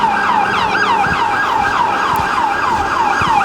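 A wailing siren sweeps up and down repeatedly as an emergency vehicle goes by on a Hollywood street, loud and close over the low hum of street traffic.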